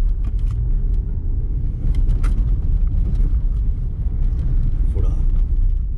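A Ram 1500 Big Horn pickup in four-wheel-drive auto mode cruises on a snowy road at about 35 mph, giving a loud, steady low cabin rumble with road noise and someone talking over it.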